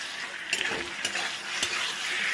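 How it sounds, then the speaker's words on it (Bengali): Sauce being stirred into a sizzling pan in a home kitchen, a steady frying hiss punctuated by three sharp clinks of a utensil against the pan, close and unaccompanied by talk. "নাড়াচাড়া করে নিচ্ছি"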